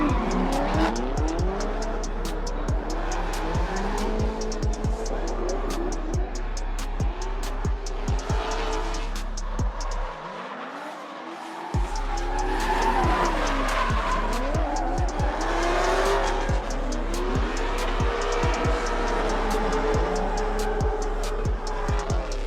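Drift cars slide around Evergreen Speedway at a DriftCon event, with continuous loud tire squeal and roaring engines through repeated passes, broken by a brief quiet gap midway.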